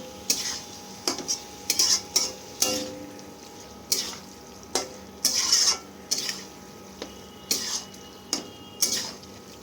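A spoon stirs ground green chilli into a spicy chicken gizzard curry in a pan, giving irregular metallic scrapes and knocks over a soft background sizzle.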